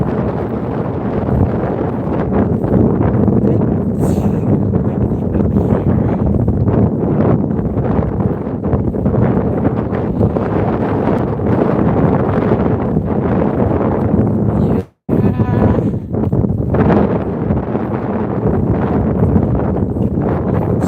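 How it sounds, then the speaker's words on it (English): Strong wind roars steadily and loudly across an exposed outdoor spot, buffeting the microphone with dense rumbling gusts that drop out for a split second before resuming. "Straight into the wind. Unfortunately, the weather has only gotten worse."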